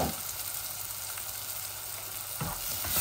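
Onion frying in a pan for a rohu fish dish with ginger and lemon, a constant close hissing sizzle that holds throughout, with a brief stirring rustle near the end and no speech.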